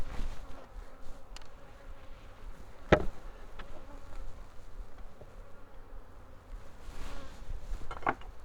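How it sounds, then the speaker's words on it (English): Honey bees crowd a homestead beehive, making a faint, steady, close drone broken by a few sharp clicks and taps. "this is full of bees all the way up here"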